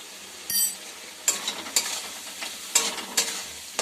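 A spoon scrapes and stirs a spice paste with turmeric and cumin powder frying in a pan: a soft sizzle broken by several distinct, close scraping strokes at irregular intervals, with no voices.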